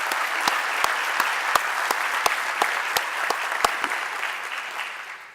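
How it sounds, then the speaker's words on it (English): Sustained audience applause fills the room at a tourism summit opening, dense and steady with a few sharp louder claps standing out, tapering off slightly toward the end. "Please give them a round of applause."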